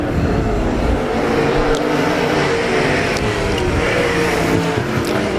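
Desert sprint cars racing on a dirt speedway, several engines roaring together at loud, sustained volume as the field charges into a turn.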